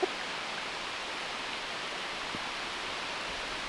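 A waterfall along a hiking trail in Madeira pours as a steady, broad rushing hiss, unbroken and even for the whole stretch, heard from a moderate distance with no voices.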